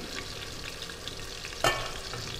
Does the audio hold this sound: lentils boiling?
yes